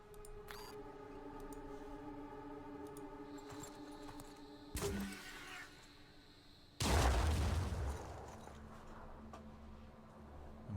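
Grenade rounds exploding in the tactical video game Phoenix Point: two loud, booming blasts, a shorter burst near the middle and a heavier, longer explosion a couple of seconds later that rumbles and slowly fades over steady background game ambience.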